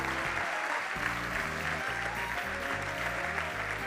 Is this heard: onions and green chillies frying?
no